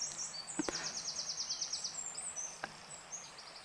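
Birdsong from a nature sounds track, a bright twittering trill of rapid repeated chirps, joined by a couple of sharp clicks, all moderately clear over a quiet hiss.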